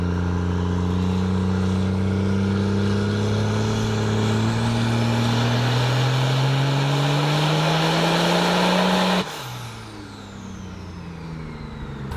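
A 2011 diesel truck with a 2.6 smooth bore turbo makes a dyno smoke run, its engine droning loud and steady as the pitch climbs for about nine seconds, then cuts off abruptly and winds down.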